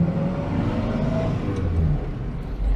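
An Austin A35 with the same engine as a Morris Minor runs on the road while driving, giving a steady low rumble and whir from inside the car, with no talking.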